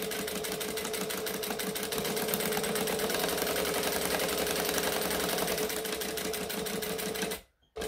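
A sewing machine stitches slowly through very thick, reflective fabric in a rapid, even mechanical rattle that runs steadily before cutting off abruptly near the end.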